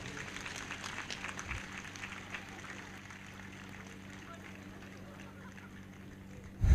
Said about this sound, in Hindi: जोर से ताली बजाएंगे, जोर से।